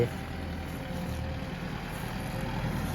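A Kubota M6240 farm tractor engine idles steadily, a constant low diesel rumble with an even hum, close by and unchanging, no voices.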